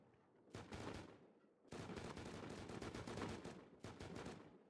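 Bursts of automatic gunfire from the survival game Rust, with dense rapid shots in three bursts separated by brief pauses, loud and close, with no talking.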